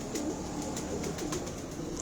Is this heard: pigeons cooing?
yes